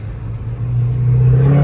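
A Koenigsegg RS1 supercar engine rumbles close by and grows louder as it drives past, its low drone rising steadily, with no voices.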